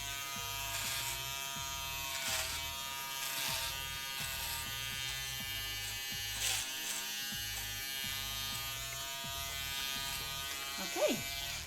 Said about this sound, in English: So you're just going to shave all this hair underneath here.